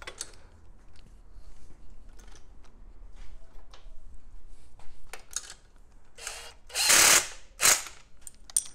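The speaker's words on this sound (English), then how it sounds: "So I'll start by tightening this bolt and work my way that way." Exhaust bolts on a Royal Enfield 650 twin are tightened with a ratchet, heard as quiet scattered clicks and rattles that build to two loud, close bursts of ratcheting near the end.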